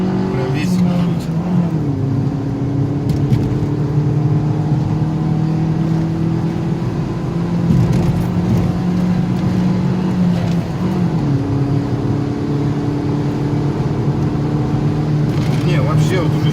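A chip-tuned Tagaz Vega C100 accelerates hard from inside the cabin, steady engine drone with rising pitch and a gear change partway through, reaching around 140 km/h; people talk over the engine noise.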